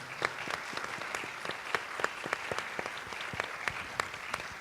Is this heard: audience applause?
yes